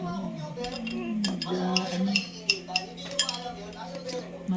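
A child works a sandok ladle against cookware, giving a string of light metallic clinks and taps close by, some sharper than others, over a steady low kitchen hum.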